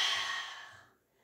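Close, audible breath during a resistance band pilates class, a single long airy exhale or sigh that fades out over about a second, with no talking.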